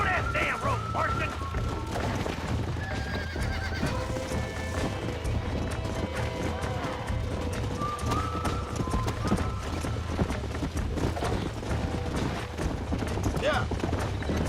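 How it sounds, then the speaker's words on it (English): Horse hooves clip-clop in rapid, continuous rhythm while a wild horse is chased in the Red Dead Redemption video game, with scattered game sounds and occasional voices mixed in. "Laçar esse cavalo selvagem aqui."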